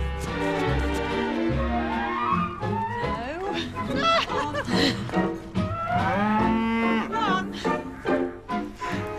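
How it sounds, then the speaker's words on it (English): Cattle that have wandered into a garden moo loudly and at length, with several drawn-out, rising and falling calls close by and people speaking in between. "I've never seen cows come in like this into the garden."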